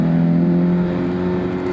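A Toyota AE86 with its 4AGE 16V engine hums steadily while driving, a loud, close, even drone with slight rev variation and no talk.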